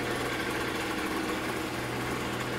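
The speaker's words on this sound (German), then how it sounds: "Auf jeden Fall läuft der Roller." An AGM Fighter 50 scooter engine fitted with a new cylinder runs at a steady idle, a continuous buzzing drone with even vibration, close and alone without talk.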